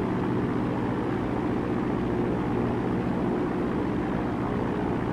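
A flight-simulator propeller aircraft engine, throttled back to 2,000 RPM, drones as a steady low rumbling hum with no change in pitch, close and continuous with no voices.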